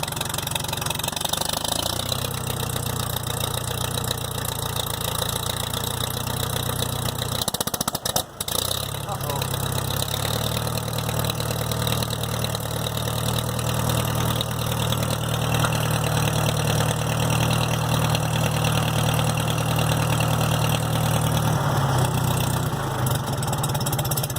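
A carbureted engine idles steadily with a low, even drone, stumbling faintly now and then as the fuel cuts slightly from a gummed-up carburetor, with a brief dropout partway through.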